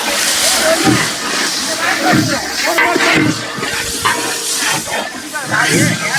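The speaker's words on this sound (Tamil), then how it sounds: "கறி தாளிக்கிறதுக்கான மசாலாவை தான் இப்போ கொட்டுறாங்க" Loud, bursty sizzling and hissing as masala spices are added to a large pot of curry, with clattering and background voices mixed in.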